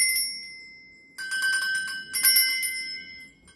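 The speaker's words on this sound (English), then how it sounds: "I'm going to be ringing these bells." Handheld bells rung in a space-cleansing ritual: a sustained ringing tone at first, then two bursts of bright, shimmering metallic chimes that ring out and slowly decay, close and clear with no talking.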